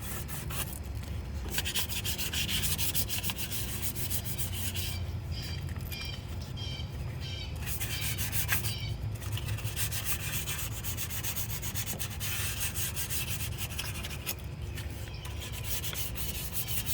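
Fine sandpaper scuffs a Chrysler fake exhaust tip in steady, continuous rubbing strokes, close and fairly loud, with brief changes in pitch as the strokes shift direction.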